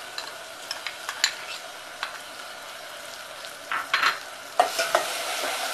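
Soaked dal is stirred into cooked onion and tomato for a Maharashtrian methi bhaji, a soft sizzle under scattered scrapes and knocks of a spoon in the pan, growing busier and louder toward the end.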